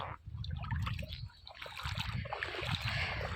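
Fast floodwater rushes past a house as a pump drains it, a steady broadband wash of flowing water with splashy gurgles, close and continuous for the whole moment.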